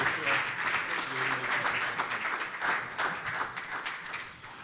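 Church congregation applauding as the pastor comes up, a steady, moderately distant wash of clapping with cheering voices mixed in.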